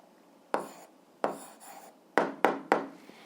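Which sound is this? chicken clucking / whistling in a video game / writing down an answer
writing down an answer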